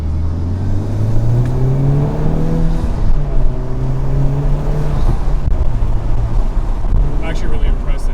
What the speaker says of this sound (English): I just got in the car and started driving.